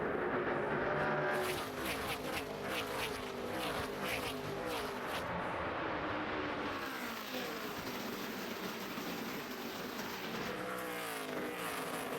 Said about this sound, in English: Pace car has pulled down onto the front straightaway, down the front stretch, and this race at Phoenix is green.